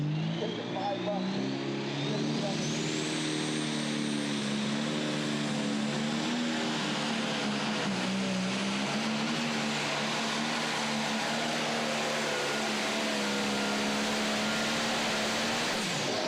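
A pro stock pulling tractor, the Buck Eater 2, competes at a tractor pull in Goshen, Indiana, its engine roaring loud and continuous with a rising and wavering pitch throughout.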